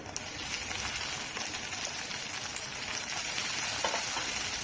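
Onion and tomato fry in garlic oil in a pan for a vegetable dish, giving a soft, even sizzle with faint crackles and occasional light stirring scrapes, fairly quiet and with no talk.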